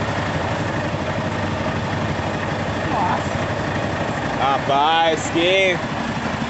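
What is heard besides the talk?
bus engine started and idling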